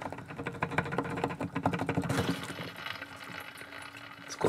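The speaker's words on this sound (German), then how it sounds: "Jetzt kommt, wie gesagt, das ganze Wasser raus, auch das, was oben im Hahn natürlich noch drin ist." Water gushing and splashing from a leaking tap after its cartridge is pulled out, heard as a dense, fairly faint rattling patter first, then a steadier rushing flow, with no voices.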